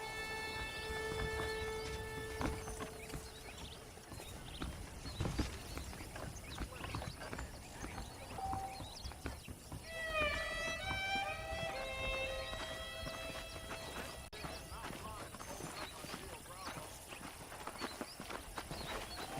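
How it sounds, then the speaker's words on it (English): Rhythmic clip-clop of horse hooves at a steady pace over a layer of music and ambient game sound in Red Dead Redemption. "The horses are saddled up over here."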